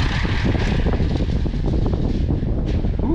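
A Traxxas Monster Slash 4x4 RC truck screams along at full throttle, its electric motor a steady high whine over heavy wind buffeting on the microphone.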